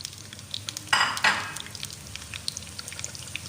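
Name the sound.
onion, garlic and ginger frying for dal tadka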